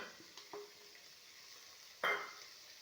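Onions with a paste of ginger, garlic and shallots being stirred in a pan for a chicken curry, soft scraping strokes over a faint sizzle, with one louder scrape near the end.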